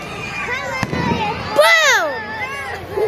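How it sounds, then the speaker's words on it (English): Fireworks go off with a sharp crack followed by whistling, crackling bursts, fairly near, while people talk and react around them. "Here it is right here. Explosion."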